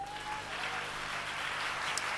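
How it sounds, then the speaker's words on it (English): Congregation clapping during a church prophetic service, a steady broadband wash of hands sustained throughout at moderate level, with an organ-like tone and faint voices beneath. "Give the Lord a clap offering."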